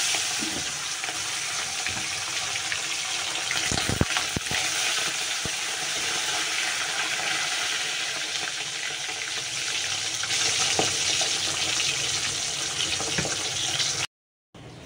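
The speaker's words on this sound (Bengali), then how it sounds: "চলো মাছটা ভেজে নিই। তেল দিয়েছি," Fish frying in hot oil in a home kitchen wok gives a steady, close sizzle that fills the whole stretch, with a few sharper crackles and spatters, before cutting out abruptly near the end.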